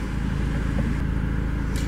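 A 2000 Mazda Miata's engine winds up during a drive, a steady loud mechanical drone holding for two seconds with a brief brighter burst near the end.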